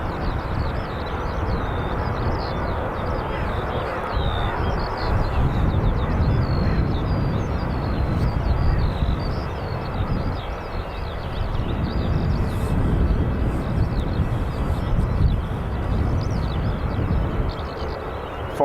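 A steady, loud roar of jet engines from a KLM Embraer E195-E2 fills Dublin Airport, rising and falling slightly over the whole stretch, with birds chirping faintly above it.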